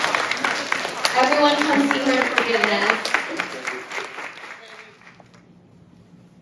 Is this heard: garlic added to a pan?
no